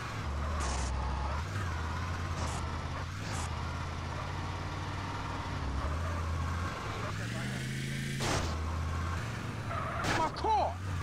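Car skidding in the video game GTA San Andreas, a tire screech over steady engine drone with game dialogue and voices talking throughout.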